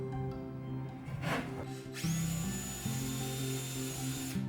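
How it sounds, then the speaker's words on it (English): Close power drill whirs into wood after a short scraping rustle, pre-drilling holes for drywall screws, revving up and running steadily with a slight dip partway through. "We're going to pre-drill a couple holes for drywall screws."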